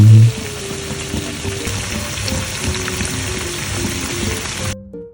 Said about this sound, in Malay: Bila api mula dah panas, kita pun boleh start untuk menggoreng.